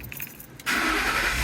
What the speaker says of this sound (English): Start the engine one time.